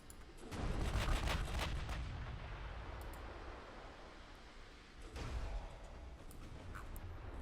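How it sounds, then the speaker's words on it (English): Heavy 18-inch naval guns firing in the Ultimate Admiral: Dreadnoughts warship battle, booming salvos with long rumbling decay, a large blast at the start and another near five seconds, distant and resonant. "these 18-inch guns are doing some work"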